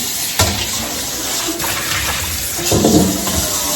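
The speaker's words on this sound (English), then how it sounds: "Gonna rinse your pan again." Running water rinses a pan during washing of mustard and collard greens, a steady close gush of tap flow with a few clunks and splashes as the pan is handled.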